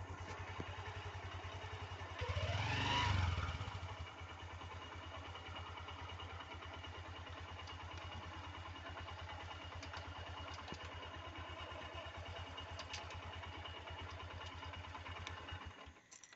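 A motorcycle engine runs at a low, steady idle throughout, swelling briefly with a louder rev early on before cutting out at the very end; the sound is faint and distant-seeming, with no voices.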